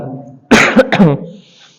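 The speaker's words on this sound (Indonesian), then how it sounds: "insyaallah ini batuk karena angin" A man with a wind-caused cough from days of cycling lets out a close, loud cough in two or three harsh bursts after a quiet moment, fading into silence.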